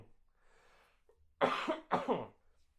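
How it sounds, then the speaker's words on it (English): Two sharp coughs close to the microphone, one right after the other, following a quiet moment with faint background noise. "I'm just coughing my head off over here."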